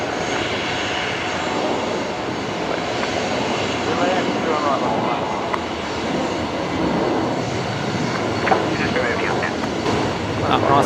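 A Qantas Boeing 737-800 jet takes off from Brisbane Airport, its engines a sustained, loud roar heard at a distance. Voices talk over it now and then.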